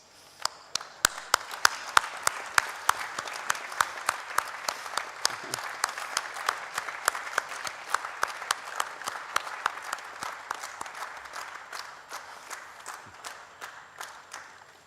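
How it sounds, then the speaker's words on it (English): An audience at a formal oration gives a standing ovation, with sustained steady clapping from many hands over about fifteen seconds and a few louder, sharper claps nearer by. "let us give these illustrious figures a standing ovation, please"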